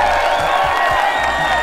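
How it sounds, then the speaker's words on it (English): A live seminar audience cheers and whoops for the winning hotel-on-the-beach team, a loud, continuous crowd roar with scattered claps filling the whole moment. "then please cheer now"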